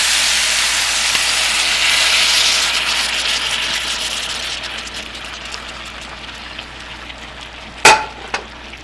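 Diced tomato hitting a pan of frying cabbage stir fry, a steady broadband sizzle that eases off over several seconds, with a couple of sharp clinks near the end.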